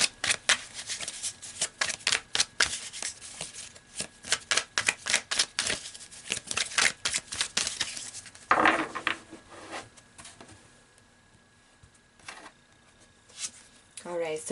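Tarot cards being shuffled by hand, a rapid run of crisp riffling flicks and soft slaps close up, pausing briefly before a few final shuffles and taps.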